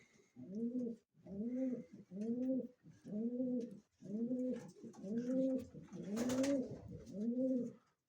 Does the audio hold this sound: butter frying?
no